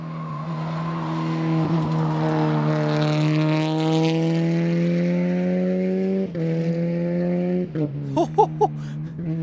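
A powerful rally car races through the Olympus Rally super special stage, its engine note climbing steadily through a long pull before a gear change and sharp revving bursts near the end, loud and close.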